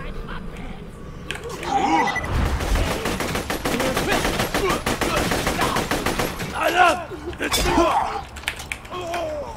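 Rapid gunfire from the video game Borderlands 2, bursts of automatic shots and single cracks running nearly continuously at high volume, with a voice talking over parts of it.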